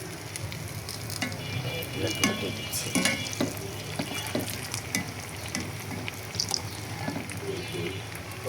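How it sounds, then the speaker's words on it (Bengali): Egg chops deep frying in hot oil sizzle and crackle steadily, with scattered clinks and scrapes of a utensil turning them in the pan, while someone briefly speaks over the frying. "ডিম চপগুলো ভেজে নিচ্ছি"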